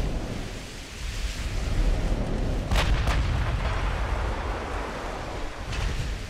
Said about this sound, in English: We have already lost a significant amount of health because of the 16-inch guns of that battleship.